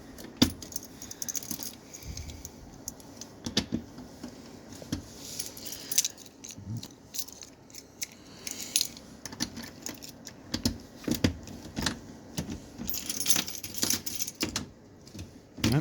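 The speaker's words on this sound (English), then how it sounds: "So many keys, it's ridiculous." A large bunch of keys from a lockup jangles and clinks steadily for about fifteen seconds, close and continuous, with sharper rattles scattered throughout and no talking.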